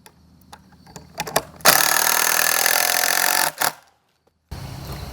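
A power drill drives a 3.5-inch screw at an angle through a firewood rack board into the bottom piece, with a few handling knocks, then a loud two-second whir, a short burst, and a final steady buzz.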